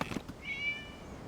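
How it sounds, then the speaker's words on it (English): A cat meowing in a video game, a single short, clear meow in the middle following a couple of soft thumps, in an otherwise quiet scene. "It was just a cat."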